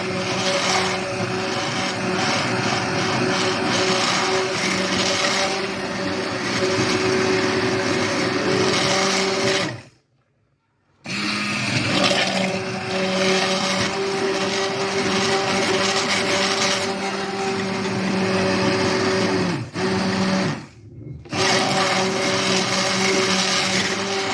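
A food processor purees tomatoes for a homemade tomato preserve, its steady loud whirring motor running continuously and cutting out twice, briefly, before restarting.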